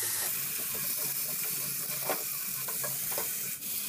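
Native country chicken and six or seven potatoes are stirred together in a cooking pot, a steady close sizzle with scraping spoon strokes running throughout.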